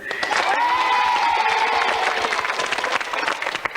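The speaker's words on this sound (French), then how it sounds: "On les applaudit." A studio audience at a French children's television show claps and cheers for contestants being introduced, a dense steady applause with a brief rising whistle-like tone near the start, loud and close throughout.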